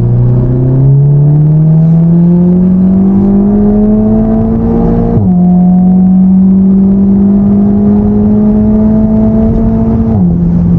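A 360-horsepower Seat Leon Cupra accelerates hard, its engine note climbing steadily through a gear, dipping at a quick shift near the middle and climbing again, loud and close with no talk.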